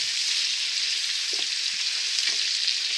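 Bell peppers fry in a pan with a steady, bright sizzle that carries the whole time, plus a few soft stirring clicks underneath; no one speaks.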